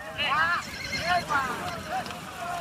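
A herd of free-roaming horses in Spain's Doñana reserve whinnies repeatedly over a soft patter of hooves, the calls overlapping at moderate distance.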